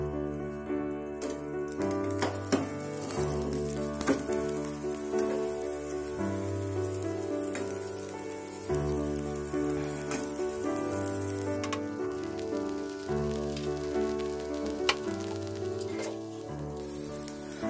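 An egg white masala omelette sizzles in a hot pan, a steady crackling frying hiss that runs unbroken and moderately loud beneath soft background music.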